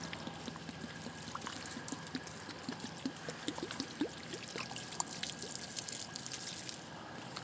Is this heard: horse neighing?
no